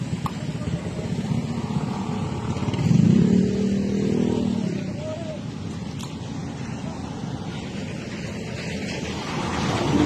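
A speeding big-bike motorcycle passes on a road with oncoming four-wheel traffic; its engine swells loud for a couple of seconds, then fades into steady road rumble.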